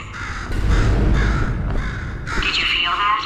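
Bird in Portal 2 cawing loudly and harshly, with several raspy calls close by, while a synthetic voice talks over and between them.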